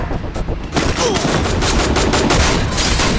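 Rapid automatic gunfire in the Free Fire mobile battle game, a few scattered shots followed by a dense, loud burst of continuous firing that fills the rest of the moment.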